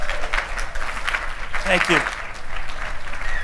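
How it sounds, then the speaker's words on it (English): Audience members clap for a speaker's grandkids at a business leadership talk, a moderate, scattered burst of applause while someone briefly speaks over it. "Can I have a round of applause for my grandkids?"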